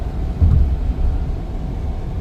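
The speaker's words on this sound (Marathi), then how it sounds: "शेवटी मित्र डांबरी रस्त्यावर काय मस्त गाडी चालतं" A car cruises along a smooth asphalt road on a long highway trip, heard from inside as a steady deep rumble with a slight swell partway through.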